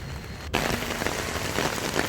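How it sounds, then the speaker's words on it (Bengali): Heavy rain pours down steadily, a dense continuous patter drumming on surfaces and likely an umbrella, loud and close, with one brief gap near the start before the downpour resumes unbroken. "প্রচণ্ড জোরে বৃষ্টি মানে ঝমঝমিয়ে নেমেছে"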